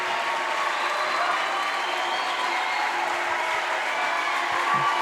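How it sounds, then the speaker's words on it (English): A crowd of fans at a women's college basketball tournament game applauds the home team's victory, a steady wash of clapping from many hands throughout the arena. "Appreciative Union fans here applauding the victory by the Lady Bulldogs."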